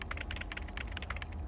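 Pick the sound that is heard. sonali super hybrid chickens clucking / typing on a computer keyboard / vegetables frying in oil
typing on a computer keyboard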